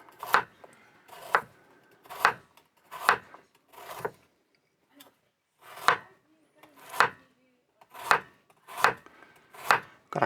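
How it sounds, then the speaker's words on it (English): A knife chops a carrot into slices on a cutting board: about a dozen crisp, close thuds spaced roughly a second apart, with brief quiet gaps and no talk. "There we go, and we cut a carrot there."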